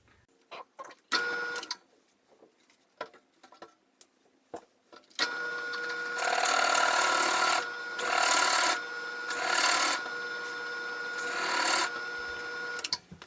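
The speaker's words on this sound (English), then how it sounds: "So I'm going to drill the 2 1/8 inch hole." A drill boring a 2 1/8 inch hole into wood while building a leg vise, scattered knocks and clicks first, then a loud grinding, rasping cut in several long surging bursts, close up and without talk.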